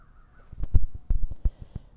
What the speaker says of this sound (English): Can you hear the birds through the video that are flying through the arboretum?